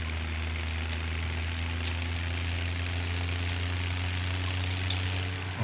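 A tractor engine in Farming Simulator 17 idles at a steady low hum with a constant drone and no change in pitch. No voices are heard.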